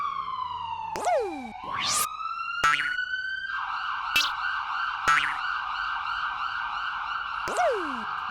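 A police siren wails continuously, its pitch sweeping up and down with sharp chirps and whoops layered over the steady tone, loud and close.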